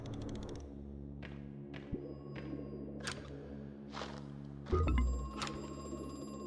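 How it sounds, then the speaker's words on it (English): A telephone rings in a creepy horror video game, a few bright repeating trills over a low droning ambient score with occasional thuds. "Phone call again?"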